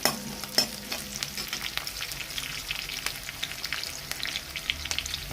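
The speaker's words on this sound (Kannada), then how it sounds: "ಸ್ವಲ್ಪ ಇದು ಫ್ರೈ ಆಗಲ್ರಿ ಎಣ್ಣೆ ಒಳಗೆ" Curry leaves fry in hot oil in a pan for a ridge gourd stir-fry, giving a busy crackling sizzle with sharp pops and stirring scrapes near and clear, no talk.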